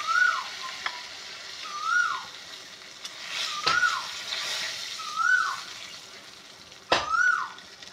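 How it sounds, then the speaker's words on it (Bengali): Cumin seeds, dried red chillies, bay leaf, cardamom, cinnamon and cloves sizzle in hot oil over a clay stove, a steady frying hiss with periodic louder stirring scrapes and a few sharp clinks, close and without talk. "এই জিরে ফোড়ন দিলাম, এবার শুকনো লঙ্কা, তেজপাতা, এলাচ, দারচিনি, লবঙ্গ এগুলো দিয়ে দিলাম।"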